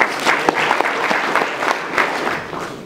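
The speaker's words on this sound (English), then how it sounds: "So give yourselves a round of applause for that." An audience at a school fall sports banquet claps steadily for a few seconds, a dense, fairly close round of applause with no talking over it.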